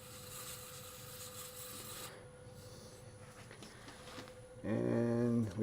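Gentle hand sanding of a lidded cherry wood box with 400 grit sandpaper, a soft steady rasping that runs continuously and quietly up close, with a louder tonal burst of other sound near the end.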